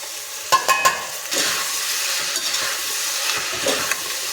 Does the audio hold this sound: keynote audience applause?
no